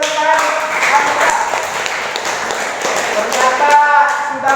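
Students in a school classroom clap together in a brief round of scattered applause, mixed with voices in the room.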